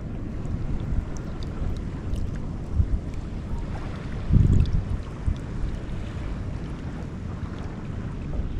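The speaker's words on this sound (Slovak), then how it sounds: "Takáto pohodička, ale dosť tu fúka však." Wind blows steadily across a Maldives beach, a low rushing roar buffeting the microphone with a stronger gust midway, and no voices.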